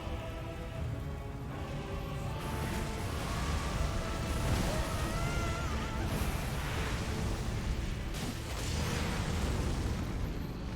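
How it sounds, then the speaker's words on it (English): Booming, crackling blasts from an Elden Ring boss fight against Mohg, Lord of Blood, roll on as a dense, sustained rumble with layered bursts, loud throughout with no speech. "Explosion."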